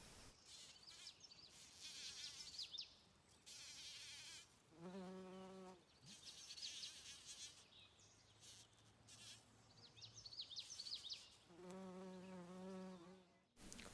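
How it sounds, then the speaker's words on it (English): A bee buzzes nearby in several bursts, its droning hum rising and fading, with birds chirping and twittering in the background. "Listen closely and you can hear the bee buzzing."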